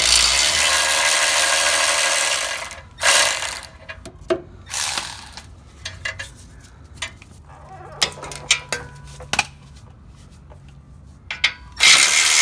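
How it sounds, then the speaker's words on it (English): A 7/8 open-end wrench works an O2 sensor loose on a Nissan Titan exhaust manifold, with loud bursts of noise at start and end framing quieter metallic clicks, scrapes and taps of the tool in between. "we can go ahead and unscrew the O2 sensor."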